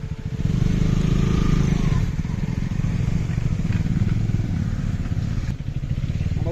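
A KTM Duke 250 streetfighter motorcycle rides off-road, its engine a steady close chugging drone with clattering over rough ground.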